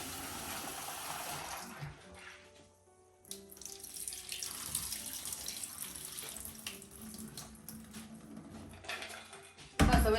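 A kitchen tap runs steadily into a sink while something is rinsed, a continuous hiss of splashing water with soft voices now and then and a louder gush at the very end.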